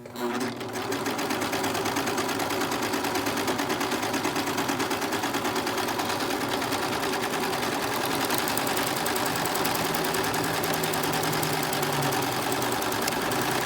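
A Brother 1034D serger runs a chain stitch on fabric with a steady, close, loud whirr of motor and rapid needle chatter that continues unbroken throughout.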